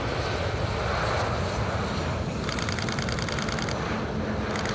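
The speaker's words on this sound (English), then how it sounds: "Malaysian Airlines 737. Let me try and get it at touchdown this time." A Malaysia Airlines Boeing 737 touches down, its engines a loud steady roar at an airport, with bursts of rapid mechanical clicking from a nearby camera shutter layered on top, no voices.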